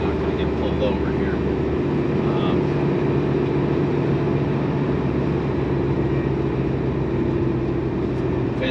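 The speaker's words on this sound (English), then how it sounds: "You can see the motor's very strong, really great acceleration." A 1988 BMW M5 with a Dinan-tuned engine accelerating on the road, giving a loud, steady engine drone with low road rumble that holds evenly throughout.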